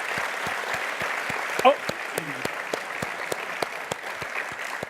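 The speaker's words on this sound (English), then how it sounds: "We should clap." An audience claps steadily at a talk, the crowd applause filling the whole stretch at moderate loudness, with a voice briefly heard over it.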